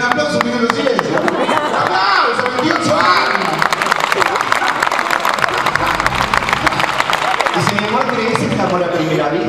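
Theatre audience at a comedy show breaking into loud sustained applause with crowd noise and some cheering, dense clapping throughout with voices mixed in.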